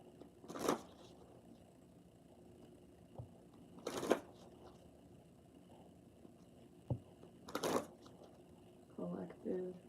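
Tarot cards being shuffled: three sharp riffle bursts spaced a few seconds apart, with faint handling sounds between them and brief quiet talk at the end.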